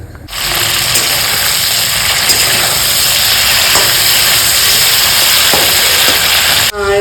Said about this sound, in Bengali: এই যে সর্ষের তেলটা গরম হচ্ছে এর মধ্যে এটা ভেজে তুলে নেব